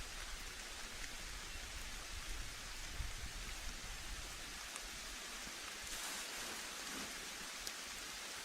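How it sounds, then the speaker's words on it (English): Rain falling on green leaves of a forest canopy beside a rock overhang in winter woods; a soft, steady hiss of countless drops, quiet and even throughout, with no voices. "As rain begins to fall, dotting the green leaves of the canopy"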